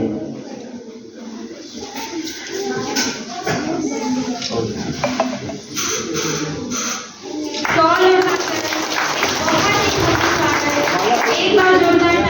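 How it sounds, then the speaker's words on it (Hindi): Audience clapping at a college NSS students' cultural programme, a sustained patter of applause that swells louder toward the end, mixed with background voices and a public-address announcer speaking. "एक बार जोरदार तालियों का साथ फिर से।"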